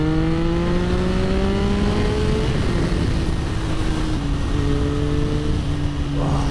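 A Triumph Sprint 955i ST motorcycle pulls hard in second gear, its engine note climbing steadily in pitch, a loud continuous rising whine, then briefly dropping before climbing again.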